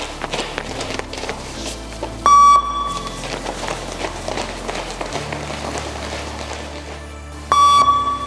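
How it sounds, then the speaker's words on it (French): Loud electronic beeps sound twice, each a steady tone lasting under a second, pacing a firefighter shuttle-run fitness test during volunteer firefighter recruitment trials, over running footsteps and a busy gym-like background. "Ajustez bien votre vitesse sur les bips sonores."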